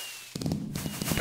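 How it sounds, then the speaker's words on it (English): Minecraft fireworks go off in a quick burst of several sharp crackling pops after a brief quiet lead-in, closely spaced and fairly loud, with no voices. "I screwed up all my firework."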